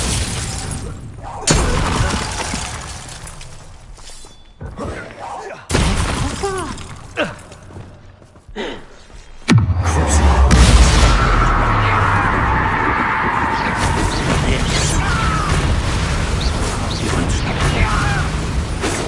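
Glacius freezing spell cast in the Hogwarts video game, a burst of crackling, shattering ice effects with a low boom that gives way to sustained dense magical texture, loud and close, with a voice calling out spell names.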